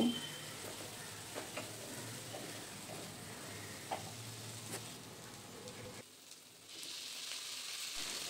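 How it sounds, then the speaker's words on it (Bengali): Fried okra and tomato masala sizzle steadily in a pan, a close, continuous crackle with scattered pops that dips briefly near the end before returning as a brighter hiss. "ঠিক এই রকম হয়ে এলেই আমরা এর মধ্যে আগে থেকে ভেজে রাখা ভেন্ডিটা দিয়ে দেব"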